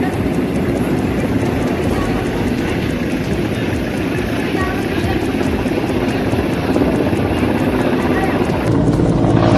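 An Air Force rescue helicopter flies overhead, its dense rotor and engine roar steady and loud throughout, with voices faintly mixed in beneath the noise.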